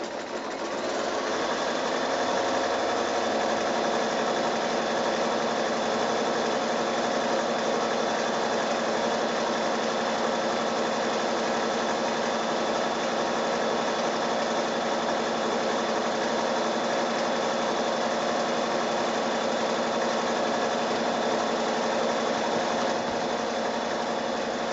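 A sewing machine runs steadily, overcasting a fabric seam with a zigzag stitch while making a child's quilted bedding set. Its fast mechanical whirr and needle clatter hold at a constant level throughout, close up and with no talking.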